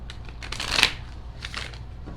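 Tarot cards being shuffled up close, a soft papery riffling and flicking that swells into one brighter burst near the middle, then continues as lighter rustling, with no voice.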